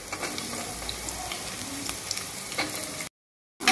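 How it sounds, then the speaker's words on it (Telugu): Chopped onions and carrot pieces fry in a pan with a steady, close crackling sizzle and occasional stirring scrapes, broken by a brief gap of silence near the end, with no talking. "క్యారెట్ ముక్కలు ఇలా ఫ్రై అయిన తర్వాత మనం ఫస్ట్ అయితే ఇప్పుడు ఆనియన్ వేసుకున్నాము"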